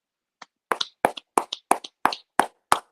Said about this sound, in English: You know SLPP clap for yourself.